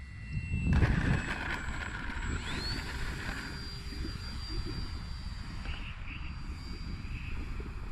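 A radio-controlled Dynam Skytrainer 182 model propeller plane drones steadily at a distance, its engine pitch rising and holding as it flies past, with a brief louder rush near the start.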